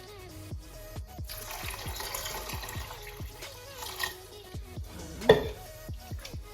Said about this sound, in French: Et on rajoute encore de l'eau